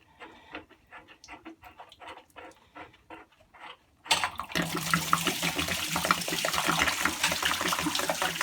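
Water from a marine hot water tank suddenly gushes out after the heating element is pulled, a loud continuous rush following several seconds of quiet handling noises.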